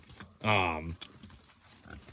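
Mangalitsa and Ossabaw pigs on a farm, one loud, close grunting squeal lasting about half a second, followed by a few faint grunts and low background noise.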